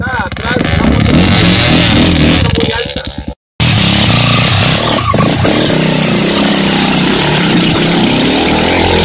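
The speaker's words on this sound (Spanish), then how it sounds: "esa moto estaba atrás" A motorcycle roars past close by, a loud revving engine that cuts out briefly and then returns as broad, steady engine and road noise.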